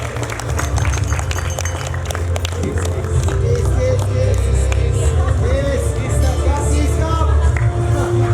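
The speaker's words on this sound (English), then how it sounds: "A round of applause" Guests at a Cebu Centennial Lions Club inauguration in 2023 give steady crowd applause, with chatter and voices running underneath throughout.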